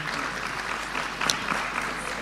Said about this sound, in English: One more round of applause for Mr. Floyd Hill.